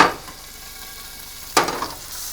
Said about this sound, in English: Oh yeah, there's the sizzle. I like the sizzle.